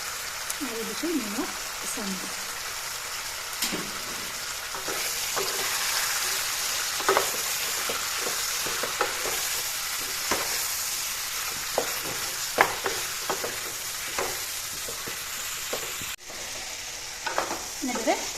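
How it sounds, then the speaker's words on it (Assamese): Chicken curry with tomato frying in a pan gives a constant crackling sizzle, broken by scattered clinks and scrapes from a spoon as the meat is stirred. "অলপ বহি লৰাই দিলোঁ"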